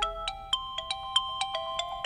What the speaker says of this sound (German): Mein Handy klingelt, bitte entschuldigt mich.